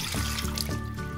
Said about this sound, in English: I'll turn on the cold water.